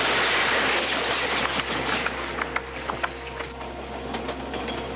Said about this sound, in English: Two runaway boxcars were heading downhill toward 7 Mile Crossing.